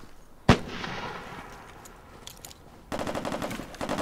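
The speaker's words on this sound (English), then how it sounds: "That's a good nade." Grenade explosion in a Crossfire first-person shooter match: a sharp loud blast near the start with a rumbling decay, followed later by dense rapid gunfire bursts.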